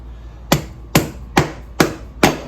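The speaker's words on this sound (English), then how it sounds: "hammer it in" A hammer drives a CV axle into the front left of a 2020 Toyota Corolla LE, with five sharp metallic strikes at a steady, even pace, loud and close, with no voices.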